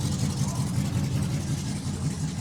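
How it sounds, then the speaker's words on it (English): A loud Hummer engine runs close by with a steady, deep rumble that fills the whole stretch without a break. "Fucking loud ass Hummer, ruining the shot."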